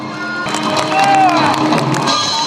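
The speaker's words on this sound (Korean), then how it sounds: "전통무의 시범단이 단칼에 집단과 대나무를 베자 절로 박수가 터집니다" Outdoor crowd on a spring day at Namsan reacts with a burst of clapping and cheering after a traditional martial arts team slices straw bundles and bamboo, mixed with crowd chatter and a news narrator speaking over it.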